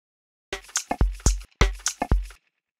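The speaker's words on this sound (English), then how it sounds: "The way that I made this sound was by recording myself actually hitting some candles together" Candles knocked together as a homemade percussion sample for textured drums: about seven short, crisp clacks in two quick bursts with a gap between, dry and close.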